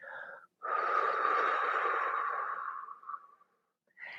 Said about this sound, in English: exhaling through the lips.